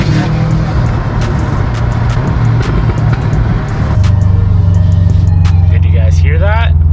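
Tuned 500whp Subaru STI engine running loud and close during a second-to-third gear acceleration, its rough droning note shifting midway with uneven stuttering, with cabin noise and brief voices underneath.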